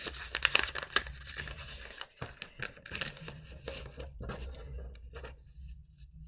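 Paper is folded, creased and crinkled by hand while making an origami hat, with sharp crackling bursts early on, then quieter scattered rustles and creases, close up and without talk.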